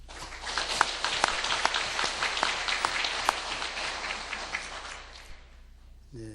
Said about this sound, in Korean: 우리 박수 한번 드리겠습니다